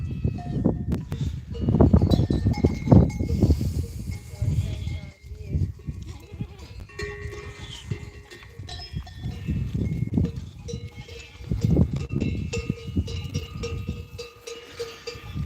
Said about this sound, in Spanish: las cabras cuando se paran los pastores se nos echan todo alrededor